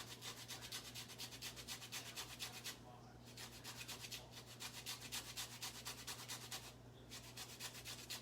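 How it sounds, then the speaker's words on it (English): Rapid rhythmic rasping of a lemon being zested on a grater for gluten-free lemon blueberry scones, close and steady, with two brief pauses between runs of strokes. "Then we're getting some zest now."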